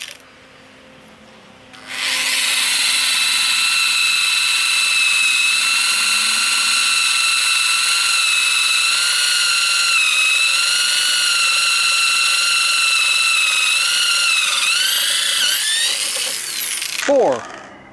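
A power drill with a dull 1/8 inch bit bores steadily for about fifteen seconds, a loud high whine that rises and falls slightly under load before winding down, recorded close.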